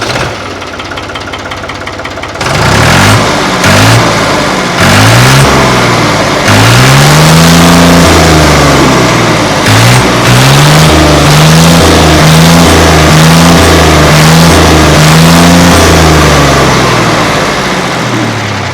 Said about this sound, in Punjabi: ਬਿਨਾ ਟਰਬੋ ਤੇ ਆਪਾਂ ਹੁਣੇ ਕਰਦੇ ਹਾਂ ਸਟਾਰਟ ਨੂੰ ਇਹ ਚਾਬੀ ਤੇ